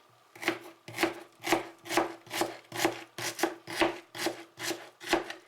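Steady knife chopping thin slices through an onion on a board, about ten even, crisp cuts in a regular rhythm, close and clear with no talking.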